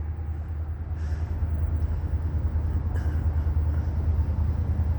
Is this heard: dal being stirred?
no